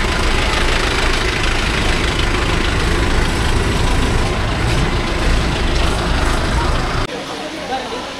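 A Mahindra Yuvo Tech Plus 585 4WD tractor engine idles with a steady, loud low rumble for about seven seconds, then drops abruptly to a quieter, thinner drone.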